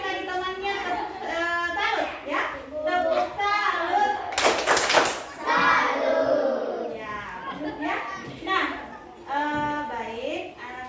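Children in a classroom clapping a rhythmic 'tepuk salut' pattern, a brief burst of sharp claps in the middle surrounded by children's and an adult's talking.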